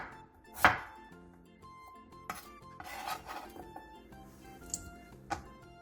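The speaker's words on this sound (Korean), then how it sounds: "감자 5개를 먹기 좋은 크기로 큼직하게 잘라주세요." A knife cutting potatoes into large pieces on a cutting board, with a few sharp separate chops spaced irregularly, some scraping and rubbing in between, close and fairly quiet.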